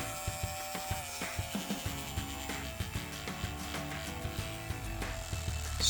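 A repaired hair clipper motor runs steadily at close range, a continuous mechanical buzz with a regular ticking pulse, alone with no talk.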